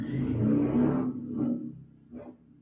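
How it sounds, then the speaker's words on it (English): A car engine revs and rumbles nearby, swelling loud, easing off, then giving a shorter rev toward the end; no voices. "It's the people on the street revving their engines."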